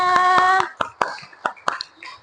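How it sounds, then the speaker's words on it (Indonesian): Children in a classroom clap a short rhythmic pattern of sharp, close hand claps, with a sung or called-out voice over the first few beats before the claps continue alone. "Tepuk tangan untuk semuanya"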